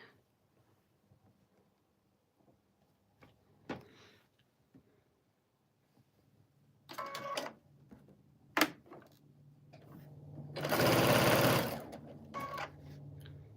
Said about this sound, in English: So let's sew this up and see if we get the size that they say they need.